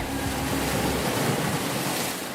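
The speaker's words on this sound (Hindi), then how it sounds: "इस समुद्र का तो दूर दूर तक कोई अंत ही नहीं है।" Cartoon sea waves roll and wash continuously in a broad, loud surf hiss, with no talking over it.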